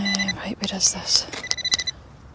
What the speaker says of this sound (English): I hope you can hear that, that's another kite behind me, they sound amazing.